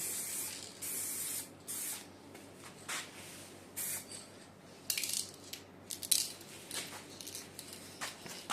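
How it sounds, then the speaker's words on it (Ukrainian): Aerosol spray cans hissing out paint in repeated bursts of varying length, close and fairly loud against a quiet room, with brief pauses and small rattles between sprays. "Не сильно мені ці балончики подобаються"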